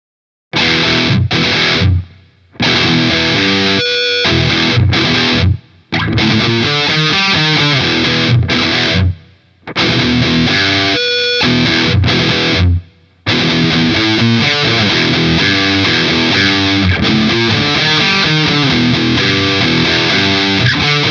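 Cort KX700 electric guitar with Evertune bridge played through heavy distortion, loud chugging riffs and sustained chords with several short silent breaks between phrases.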